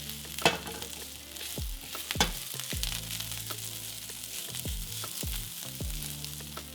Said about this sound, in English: Once the garlic is at a light brown, it's time to add the rice in.